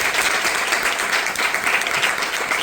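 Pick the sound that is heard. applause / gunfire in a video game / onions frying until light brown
applause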